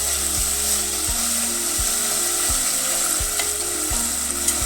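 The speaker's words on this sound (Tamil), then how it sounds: "இப்போ எண்ணெயில் வதங்குது" Whole spices such as bay leaves sautéing in hot oil for a mutton and drumstick curry, with a steady sizzling hiss and a regular mechanical clicking beneath it.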